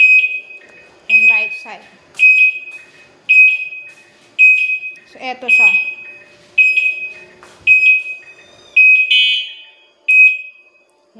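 A Super Uno's turn signal buzzer beeps in a steady rhythm, about ten loud, sharp tones spaced roughly a second apart, with a person talking quietly between them.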